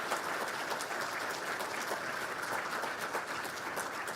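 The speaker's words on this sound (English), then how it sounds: "let's give a round of applause to acknowledge their unwavering dedication to our student teams." An audience stands and applauds faculty advisors and organizers at a Solar Decathlon event, giving sustained, even clapping from many people that holds steady throughout and sounds moderately distant.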